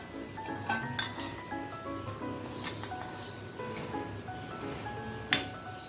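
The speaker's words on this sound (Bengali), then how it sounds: "এখন আমি পাঁচ থেকে ছ মিনিট ভালো করে কষিয়ে নিচ্ছি" Spice paste with Kashmiri chili, cumin and turmeric powders sautés in a pan for egg bhuna under a low sizzle. A utensil clinks and scrapes against the pan several times, with no talking.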